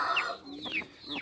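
A rooster of the gà hầu bò breed gives a few short clucks in quick succession, close by, with no talk over it.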